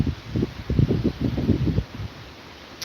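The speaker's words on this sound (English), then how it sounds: "where that tree is blowing right there, I can assure you that it's blowing 50 to 70 miles an hour" Gusty wind during Hurricane Helene in Orange Park, Florida, rushes through Georgia pine trees in rough, rising and falling bursts, then eases to a quieter hiss.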